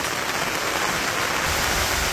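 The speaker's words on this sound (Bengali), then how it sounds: "বৃষ্টির সময় কচু পাতায় যখন পানি পড়ে" Steady rain pattering onto broad taro leaves in a Bangladeshi village during the rainy season, a dense continuous hiss close by with no voices.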